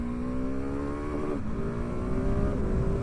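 A quiet supermoto motorcycle rides along a city street, its engine a steady, smooth, mild hum with a slight pitch rise partway through. No voices, just continuous road and engine drone.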